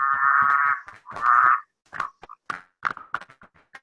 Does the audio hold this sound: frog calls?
yes